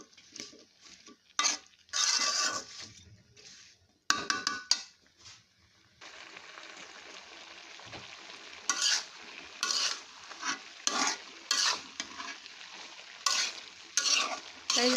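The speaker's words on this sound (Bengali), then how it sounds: "তাই এখন আমি এভাবে মিষ্টি কুমড়োটাকে নাড়াচাড়া করে ভালো করে মশলার সাথে আর চিংড়ি মাছের সাথে মিক্সড করে দিচ্ছি" Pumpkin being stirred with shrimp and spices in a pan, with bursts of spoon scraping and clattering against the metal over a soft sizzle, broken by brief pauses.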